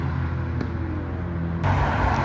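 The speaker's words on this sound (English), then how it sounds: "Got a Supra leaving." A Toyota Supra pulls away at a Japanese car meet in Reading, its engine note droning close by and then swelling louder with a sudden burst of revs near the end.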